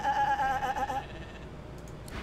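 Sheep bleating in the video game Divinity: Original Sin 2, one drawn-out wavering bleat, close and fairly loud, that fades into quiet game ambience.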